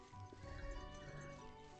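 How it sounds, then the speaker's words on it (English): Horses on a ranch neigh and whinny close by, with hooves clip-clopping underneath in an uneven rhythm, loud and steady throughout with no talking. "You and I gotta round some horses up."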